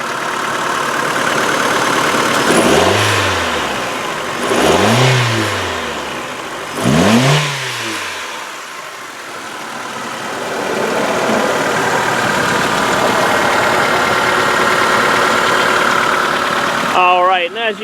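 Four-cylinder 2.0-litre engine of a 2003 Mitsubishi Lancer ES sedan revved up three times in quick succession, each rise and fall sharp and close, then settling back to a steady idle.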